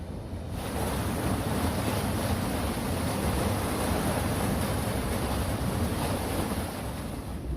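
Fast-flowing river water rushing through the old Minster Mill after heavy rain, a steady broadband roar that holds constant and fairly loud throughout.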